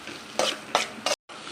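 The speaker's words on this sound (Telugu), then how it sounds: "ఇలా ఆనియన్ ఫ్రై చేసుకోవాలండి" Sliced onion frying in a pan is stirred with a utensil, giving three quick scraping strokes over a steady, close sizzle, with a brief drop to silence near the end.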